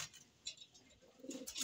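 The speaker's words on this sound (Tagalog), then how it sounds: "Isa siyang ibon." Pet pigeon cooing softly nearby, a few faint low coos and rustles in a quiet room, the last coos slightly louder.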